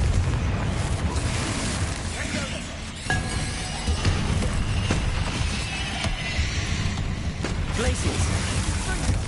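Confringo fire-blast spells going off in Hogwarts Legacy on PS5, a run of booming explosions and crackling bursts layered over dense game sound, with loud repeated impacts spread across the whole stretch.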